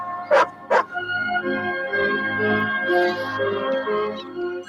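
An attack dog barks twice in quick, sharp bursts near the start, followed by a steady tonal hum and murmuring sounds with a brief high chirp; no clear talk.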